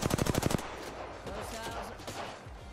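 Apex Legends gunfire opens with a rapid automatic burst of about eight shots, followed by a duller wash of game noise and scattered distant shots.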